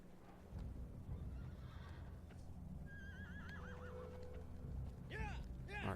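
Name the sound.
horse neighing in the video game Shadow of the Colossus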